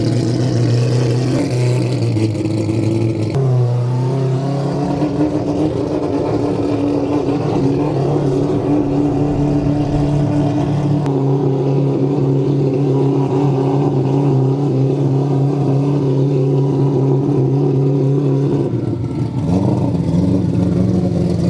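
A car with a rebuilt quad-disk clutch, a slightly heavier flywheel and a freshly tested rear differential runs hard on a dyno. The engine roars loudly and continuously, its pitch climbing through several gear changes, close up with no talking.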